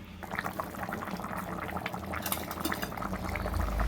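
Chicken curry with boiled potatoes and tomatoes simmers in a covered pot, a steady close bubbling and gurgling that swells louder toward the end, with no talking.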